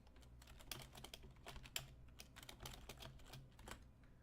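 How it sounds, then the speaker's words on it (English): Irregular clicks of typing on a computer keyboard while filling in answer options for a survey form, close and fairly quiet, with short bursts and pauses and no voices. "Notice how I type 0 and 1 before the actual answer"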